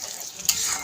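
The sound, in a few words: onions frying with black cumin in pan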